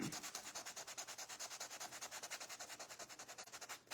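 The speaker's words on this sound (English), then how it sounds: "I'm going to sand this down and restain it" Wood being sanded down by hand before restaining: continuous rapid back-and-forth scratchy rubbing strokes, close and fairly quiet, with no talking.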